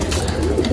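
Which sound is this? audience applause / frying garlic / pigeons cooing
pigeons cooing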